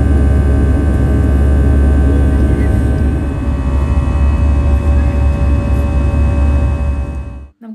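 Steady, loud cabin roar of an airliner in flight on a connecting route from Kochi via Abu Dhabi to Manchester, a continuous low broadband drone that cuts off abruptly at the end.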